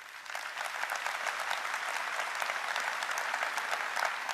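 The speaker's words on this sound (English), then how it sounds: "Please give him a big round of applause." A large keynote audience at a tech summit claps steadily to welcome NVIDIA's founder and CEO. The dense applause swells slightly after the start and holds without talk.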